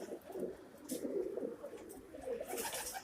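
Mixed domestic pigeons in a backyard coop, including tumbler and show birds, coo softly in a low, rolling murmur that rises and falls. Several overlapping calls come from nearby, and no one speaks.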